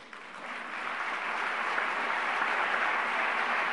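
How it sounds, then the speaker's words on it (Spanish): Audience at a conference hall giving a big round of applause, thick continuous clapping that swells in the first second and then holds steady and loud to the end. "eso se merece un gran aplauso"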